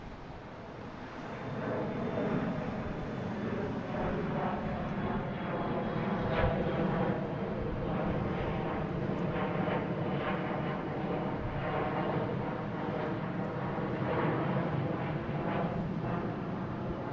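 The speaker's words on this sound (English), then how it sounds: "we have American Airlines heading to Buffalo in E175." An American Airlines Embraer E175 regional jet at Boston Logan produces a sustained, moderately distant engine roar that swells in over the first two seconds and then holds steady.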